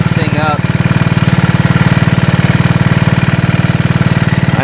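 A Honda TRX200 ATV engine runs steadily just after a cold start, loud and close, with a fast, even chugging pulse throughout and a brief catch near the start.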